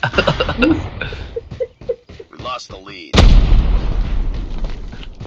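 Gunfire and explosions in the Call of Duty Mobile shooter game: scattered shots under excited talk, then a sudden loud blast at about three seconds followed by sustained rumbling chaos.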